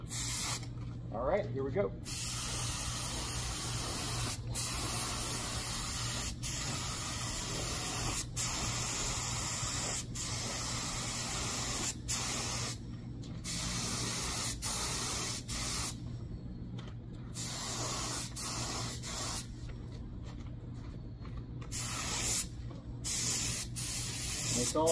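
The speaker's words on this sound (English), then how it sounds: "I'm gonna spray it on pretty wet." A paint spray gun hisses in repeated bursts, laying wet coats of custom color-shift pearl paint onto an Xbox One, with short pauses between passes and a brief spoken remark.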